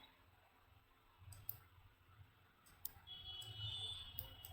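Mouse clicks on a save button in QuickBooks Enterprise accounting software: a few faint, sharp, isolated clicks spread over a few seconds against a quiet room hiss.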